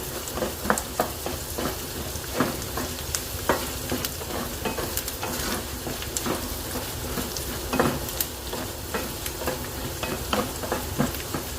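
Vegetables for fried rice stir-fry in a pan over full flame, giving a steady loud sizzle throughout, broken by repeated clacks and scrapes of stirring.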